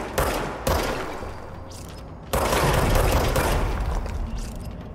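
Enemy gunfire in the action game Control, dense bursts of shots and automatic fire crackling close and loud, pausing briefly before a heavier sustained volley resumes.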